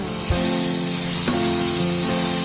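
Tomatoes sizzling steadily in a hot pan as they cook down for a tomato onion chutney, a continuous close hiss with a few brief clinks of a utensil against the pan.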